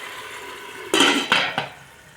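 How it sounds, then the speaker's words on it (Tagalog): A metal lid set onto a cooking pot of chicken adobo, giving one loud clanking hit and two smaller rattling knocks as it settles, close up over a faint kitchen background hiss. "Tapos takpan mo natin"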